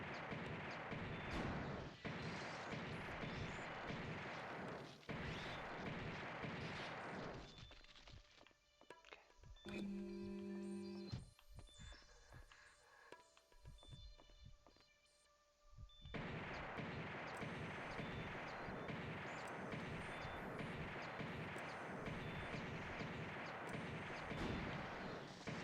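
Gunfire rips in Alien Trilogy, a 1996 PlayStation shooter, aimed at alien eggs: long sustained loud volleys fill most of the stretch, broken by a quieter middle section with tonal game sounds before heavy firing resumes.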